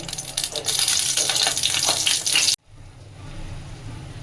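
Fish head and bones sizzling in hot oil in a kadai, a loud dense crackle that cuts off abruptly partway, leaving a quieter low steady hiss.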